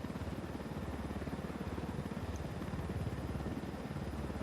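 Helicopter in the video game Ghost Recon Wildlands, a faint, steady rapid rotor thump with an engine drone beneath, continuous and unchanging, no voices.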